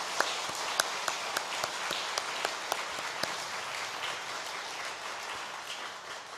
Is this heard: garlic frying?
no